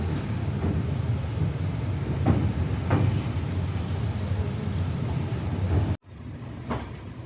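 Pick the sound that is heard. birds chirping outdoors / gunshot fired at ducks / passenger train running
passenger train running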